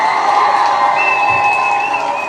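A crowd cheering and applauding steadily at close range, with some high shouts over a dense wash of clapping.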